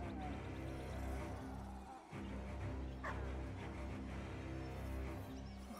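A war dog barking and whimpering in the video game Battle Brothers, with yips and whines mixed into a dense, continuous, faint bed of game noise.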